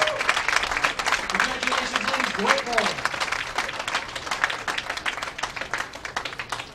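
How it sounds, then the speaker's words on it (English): Audience applause for bowling competitors at a televised stepladder final of a women's professional bowling tournament, sustained clapping throughout with someone speaking over it near the start. "One more round of applause for all of our competitors."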